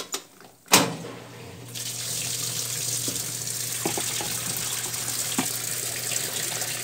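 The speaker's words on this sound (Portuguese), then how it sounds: "Acho que eu vou drenar um pouco de água." A 1993 Brastemp Mondial BLL22 washing machine drains water into a laundry tank: a thump, then a steady, fairly loud gush of flowing water with occasional small splashes and clicks.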